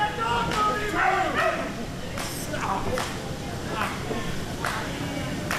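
At a live wrestling show, a dog in the front row gives a few short yips and barks, heard fairly faintly against the steady arena din.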